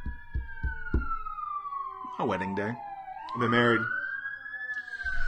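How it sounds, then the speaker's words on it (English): An ambulance siren wails past with a long rising and falling tone, continuous through the clip and moderately loud, running under a man's speech. "Someone is in an ambulance."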